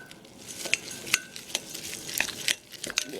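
Oats and pellets stirred together in a dish, a run of scraping, clinking taps from a utensil against the dish, close and fairly quiet with no talk.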